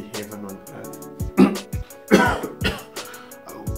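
Several harsh human coughs and throat clearings in a row, close and loud, with short gaps between bursts and bits of voice around them.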